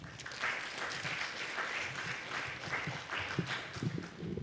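An audience at a security conference talk on Win32 analysis claps for speaker Justin Ferguson, a fairly faint, steady round of applause with some low murmur underneath.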